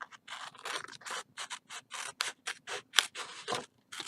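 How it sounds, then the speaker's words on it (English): Scissors cut along the edge of card stock for a pop-up easel card, giving a close, rhythmic run of crisp snips, roughly a dozen in quick succession with brief gaps between them. "Then you flip it over, and you take your scissors,"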